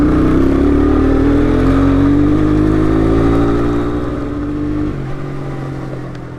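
Suzuki Quadrunner ATV barn find, engine running and revving hard, its loud droning note climbing steadily before dropping back to a lower idle, close and without talk.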